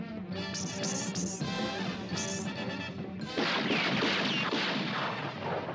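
Cartoon gunfire from a Jonny Quest episode set near a lost temple city: a series of sharp bangs and crashes over a busy soundtrack, then a denser burst of rapid shots, fairly loud and continuous.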